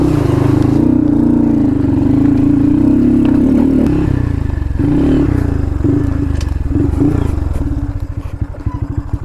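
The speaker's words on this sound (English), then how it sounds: "I think we got a creek crossing here" A Honda Grom motorcycle rides through a creek crossing on an off-road trail, its small engine droning loudly and steadily up close, while water splashes and clatters against the bike. The revs waver and pulse toward the end.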